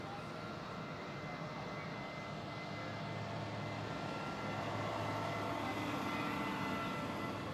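A Swiss Airbus A321 taxis at Zurich airport, its engines giving a steady, distant jet rumble and whine that holds evenly and grows slightly louder toward the end, with no talking.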